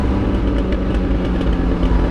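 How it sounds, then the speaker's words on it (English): A 1976 Triumph TR6 with overdrive switched off downshifting into second gear on an exit ramp: a steady, loud engine drone fills the cabin, with no grinding or chirping, unbroken throughout. "Big downshift, went right in."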